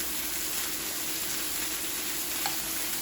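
Small pieces of salmon fry in a pan with a little olive oil, making a continuous, even sizzle throughout at moderate volume with no talking.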